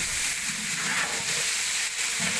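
Three kilograms of onions going into a large pot for a big batch of chicken curry, sizzling and hissing steadily, close and loud throughout with no pause.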